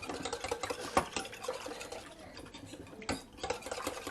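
A spoon stirs sandwich dough mixture in a bowl, soft scraping and sloshing strokes with faint clinks against the dish, quiet and close, with no voices.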